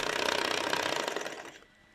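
A homemade Stirling engine runs on a kitchen table, giving a fast, steady mechanical clatter that is loud and close at first, then fades and winds down toward the end.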